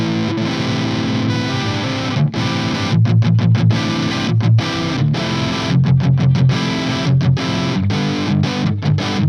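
Electric guitar through a Hughes & Kettner TriAmp Mark 3 with the gain maxed, a thick, heavily saturated tone. It plays loud, driving riffs chopped by quick staccato stops, with no voice over it.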